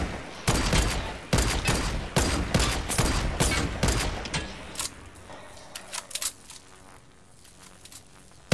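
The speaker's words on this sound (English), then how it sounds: "I sniped him somehow." A burst of rapid gunshots in a video game fires loud and close. Sharp cracks repeat quickly for several seconds, then a few scattered shots follow and the sound fades toward quiet.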